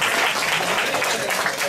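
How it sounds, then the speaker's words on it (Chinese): A classroom of students applauds during a computer programming lesson, a dense, loud burst of clapping that carries on evenly throughout. "来，大家掌声。"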